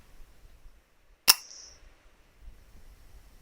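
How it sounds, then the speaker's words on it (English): A single FX M3 air rifle shot at a squirrel near a feeder in the morning: one sharp, loud crack with a brief metallic ring, standing alone in an otherwise quiet outdoor scene. "sounds a bit off, but perfect shot. Instant humane kill."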